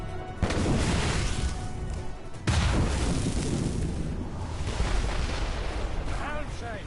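Ship cannons fire in the video game Assassin's Creed Rogue. Two loud booming blasts land about two seconds apart, each followed by a rumbling wash of crashing sea and battle noise.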